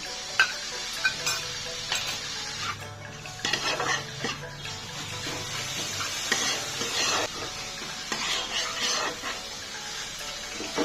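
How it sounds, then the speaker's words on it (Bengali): Tomato and onion paste being stirred in a pan for a zero-oil jackfruit seed dish, with steady scraping of a utensil against the pan, light clinks and a soft sizzle running throughout. "টমেটোটা ভালো করে নেড়ে নিয়ে পেঁয়াজ বাটাটা দিয়ে দিচ্ছি"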